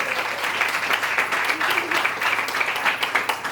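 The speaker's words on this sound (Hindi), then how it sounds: "ताली बजाओ रॉबिन के लिए" Steady, lively clapping from a church congregation applauding for Robin, filling the room evenly and continuing throughout.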